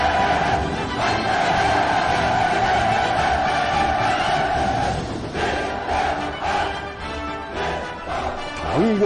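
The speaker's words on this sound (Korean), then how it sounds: "횃불 행진 참가자들이 외치는 우렁찬 구호의 함성이 수도의 밤하늘을 증감했습니다" A massed crowd of torchlight parade marchers roars slogans in unison at night in the capital, a dense, continuous wall of voices that swells and holds throughout.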